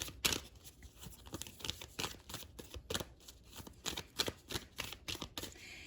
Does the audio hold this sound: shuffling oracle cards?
yes